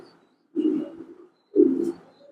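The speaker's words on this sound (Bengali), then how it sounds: "এটা একটা নর কবুতর ইনব্রিড কিটেল" A young male inbred Kitel racing pigeon coos twice, each a close, low, throaty rolling call separated by a pause in otherwise quiet surroundings.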